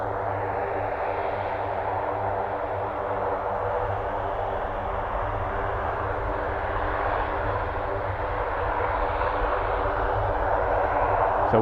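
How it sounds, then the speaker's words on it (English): A military aircraft at RAF Mildenhall rolls down the runway, heard from a nearby campsite as a steady, broad engine roar with low tonal hum, constant in level and without talk. "So one's just rolled down the runway"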